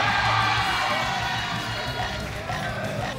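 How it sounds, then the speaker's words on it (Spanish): Audience cheering and applause at a stand-up comedy show, a loud continuous crowd roar with whoops that eases slightly toward the end. "Un aplauso nuevamente para el primer comediante de la noche."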